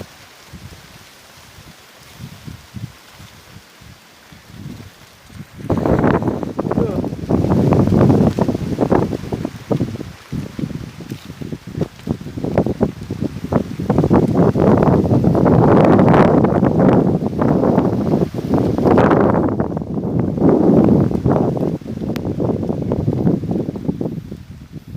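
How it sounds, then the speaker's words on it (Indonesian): Strong wind gusts over open rice fields, quiet at first and then roaring and buffeting the microphone in loud, uneven surges. "Angin tuh."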